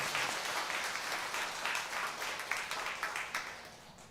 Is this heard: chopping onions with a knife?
no